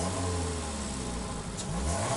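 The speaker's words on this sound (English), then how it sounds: "This is cool as well, you can hear the engine rev." A Toyota race car engine in the video game Gran Turismo Sport revs continuously with a dense, buzzing mid-pitched drone, steady and loud, with no talk over it.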